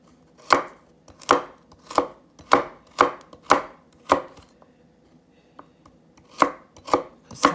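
Baby carrots are chopped on a cutting board with a knife: a quick, regular series of crisp, close thuds, a brief pause, then a few more chops, with no talking.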